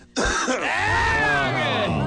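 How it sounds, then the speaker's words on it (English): A drawn-out, raspy, gurgling smoker's cough from one person, phlegmy, loud and close, with rough throaty texture throughout. "Go ahead, cough again."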